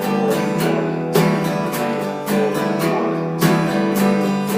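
Guitar strumming in the pattern for a song, loud and close, with steady rhythmic chord strokes and accented downstrokes recurring about every second, played alone without talking.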